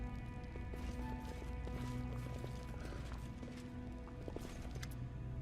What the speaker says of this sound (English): A horse croak comes from behind the bars.